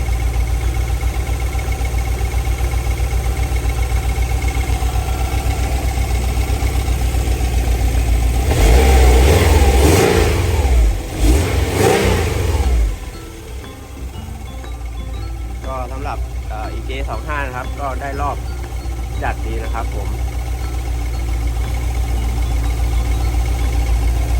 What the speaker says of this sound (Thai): ก็สตาร์ทเครื่องยนต์แล้วครับ ตอนนี้